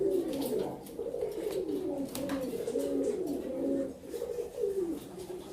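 English fantail pigeons cooing close by, repeated low, throaty rolling coos that overlap in a soft, continuous rhythm, with faint flutters and no talking.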